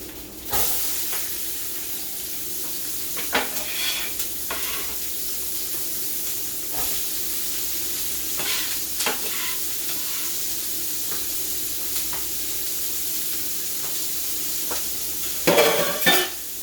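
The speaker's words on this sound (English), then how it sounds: "The onions are being sauteed." Onions sauté in a pan with a continuous sizzling hiss, broken by several louder bursts of stirring and scraping utensil sounds, close and without speech.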